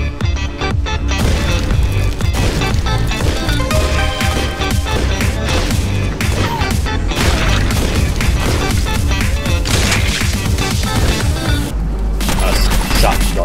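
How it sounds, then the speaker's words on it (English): Dense, continuous shotgun blasts and chaotic impacts in the video game Railbreak, loud rapid bursts piling over one another with barely a gap for the whole stretch. "Shotgun."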